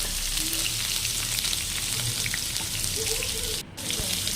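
Mango pieces fry lightly in a pan with salt and turmeric for a chutney, producing a continuous, fairly loud sizzle that briefly dips for an instant partway through.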